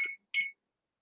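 Oven timer beeping after baking blueberry zucchini bread, two short bright electronic beeps in even succession, close and clear, then silence.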